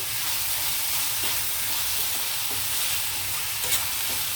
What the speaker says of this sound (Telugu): ఇది కొంచెం కలర్ మారే వరకు వేగనిద్దామండి ఉల్లిపాయలు